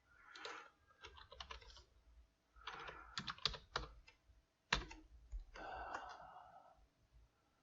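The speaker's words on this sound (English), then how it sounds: "So that's why I retype it." Bursts of clattering keystrokes on a computer keyboard come in several quick runs separated by short pauses, close and fairly quiet, with no talking.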